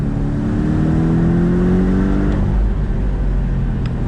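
A Porsche 718 Boxster T engine revs up steadily, its rising drone filling the clip continuously and loudly, with no voices.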